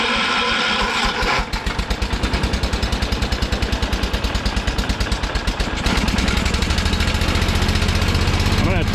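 A John Deere 212 garden tractor's small engine cranks and catches, then runs with a steady close-up chugging idle that firms up near the end, loud throughout.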